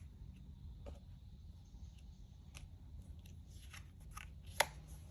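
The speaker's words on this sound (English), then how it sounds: "I'm going to cut the deck." A deck of playing cards is cut by hand, producing a few soft, faint papery clicks and taps scattered over a quiet background, with a slightly sharper snap near the end.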